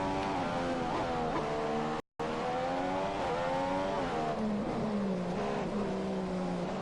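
A Formula 1 car engine in the F1 2015 racing game holds a loud, steady high-revving whine for the whole stretch, its pitch shifting with gear changes, broken only by a brief silent gap.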